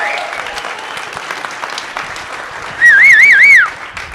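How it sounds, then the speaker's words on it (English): An audience at a startup pitch night claps steadily, and then a loud, close, warbling whistle cuts through the applause for about a second. "I think they deserve like whistles and claps and cheers."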